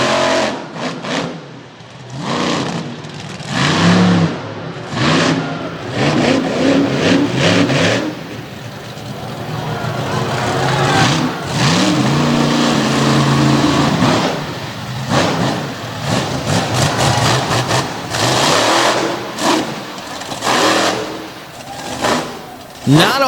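Big monster truck engines, including a Chevrolet, roar and rev in repeated surges at a monster truck show in Bloomsburg, Pennsylvania, loud and close, with crowd-like noise and a commentator's voice faintly beneath.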